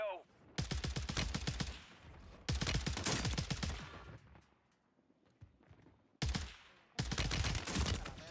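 Bursts of automatic gunfire in a Warzone 3 match on Rebirth Island, with a Striker 9 loadout: three long, loud rapid-fire volleys separated by quieter gaps, close and dominant, with no talk over them.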